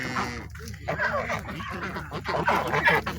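Ducks on a Bangladeshi farm call and quack as they head out to feed in the morning, close and fairly loud, with honking notes mixed through a steady rural background.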